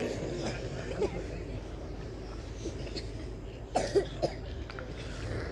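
A voice deliberately imitates a father's put-on cough, several throat-rasping bursts near the end over a steady murmur of speech-like background noise.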